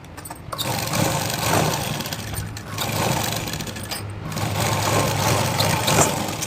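A sewing machine stitching pieces of a Punjabi pant, running steadily with a coarse whirring drone and slight surges in speed, close and alone.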